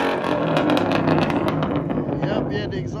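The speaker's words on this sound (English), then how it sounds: "Yep, yeah, the exhaust shot." A Dodge Hellcat Redeye with new exhaust work revs its engine, a close, throaty, rumbling roar that rises and falls. A person talks over it.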